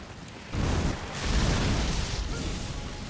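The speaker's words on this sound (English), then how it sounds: "It comes with a great golden explosion." A giant Sunflower's great golden explosion in a video game, heard as a loud, sustained roaring blast that swells after a short pause and holds steady to the end, with no talk over it.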